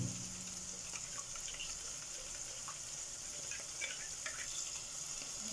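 A small splash of water goes into a hot cooking pan, making a soft, steady hiss and trickle that stays faint and even throughout.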